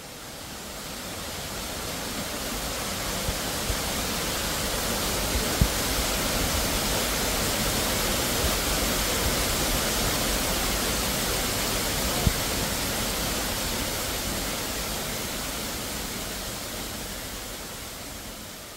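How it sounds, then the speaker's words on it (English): Waterfall echoing inside a cave on Cave Creek in Springbrook National Park, Queensland, a loud, constant roar of falling water filling the space, with a couple of faint knocks and no speech. "Sound from the waterfall was loud and the acoustics inside the cave was just wonderful."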